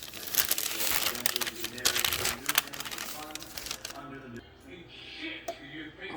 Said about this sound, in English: I'm just going to fold over this parchment paper.